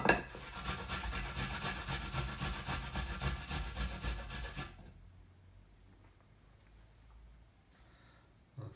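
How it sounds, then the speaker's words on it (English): Food being grated by hand on a grater, heard as a quick run of rhythmic rasping strokes for about five seconds, then near quiet with a faint bump at the end. "I'll go with the bigger half for now. I shall grate it."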